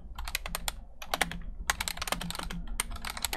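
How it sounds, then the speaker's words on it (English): Rapid, uneven clacking of fingers on a computer keyboard, close and clear, with short pauses between bursts of keystrokes and no voices. "Seriously typing."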